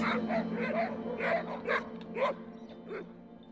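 Sled dogs at a sled-dog outing in Seine-et-Marne, France, bark and yip in a quick, excited series of close, overlapping calls over a low steady hum.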